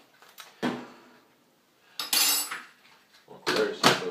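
A spoon scoops Herbalife shake powder from a tub in three short bursts of scraping and light clinking, separated by quiet pauses, close and fairly loud.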